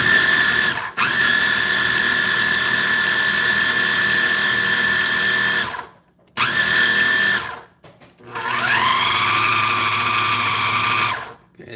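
A food processor whirs steadily, mixing keto cheese cracker dough in long high-pitched bursts that are broken by brief pauses and a short stop before the final run.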